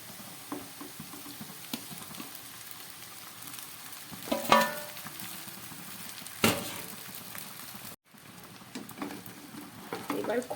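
Cooked Gobindobhog rice gently stirred into sautéed vegetables in a pan, giving soft continuous sizzling with a few louder scraping strokes and brief pauses.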